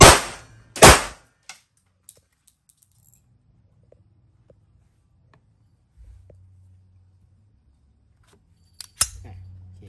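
Two sharp, loud reports from a Turkish-made SIG Sauer P320 blank-firing pistol crack in quick succession at the start, followed by quiet handling clicks and a faint low hum, then a brief click near the end.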